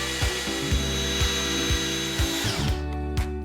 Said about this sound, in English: Andy's stupid M12 drill is overheating, so I'm just running it here to cool it off.